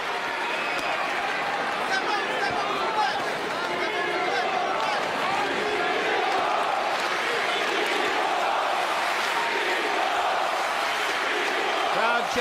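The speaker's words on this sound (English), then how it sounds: "Crowd chanting, Klitschko," Boxing arena crowd in a Wladimir Klitschko versus Lamon Brewster heavyweight fight roars and chants in a loud, continuous, dense wash of voices and applause that never lets up.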